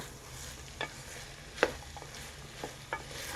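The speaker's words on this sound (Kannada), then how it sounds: "ಈ ಟೊಮ್ಯಾಟೊ ಸ್ವಲ್ಪ ಚೆನ್ನಾಗಿ ಫ್ರೈ ಆಗಬೇಕು" Tomatoes fry in a pan for methi bath, a soft continuous sizzle with a few light scraping stirs spaced across the moment, quiet and close, no voices.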